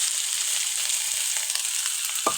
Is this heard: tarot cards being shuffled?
no